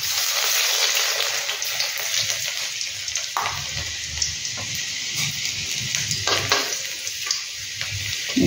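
Chopped garlic fries in hot oil with cumin for paneer bhurji, giving a loud, continuous close-up sizzle with bubbling crackles and a few stirring knocks, and no one speaking.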